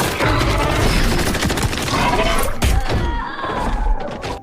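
Rapid bursts of automatic gunfire from a battle against aliens in The Tomorrow War, loud and continuous with heavy thuds and impacts packed into a few seconds.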